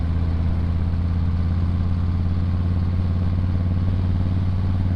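A 2025 Harley-Davidson Breakout motorcycle rumbles steadily while being ridden, its loud, deep V-twin drone constant and close, with no voices over it.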